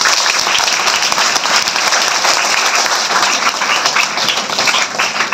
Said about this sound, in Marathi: तिच्यासाठी एकदा जोरदार टाळ्या द्या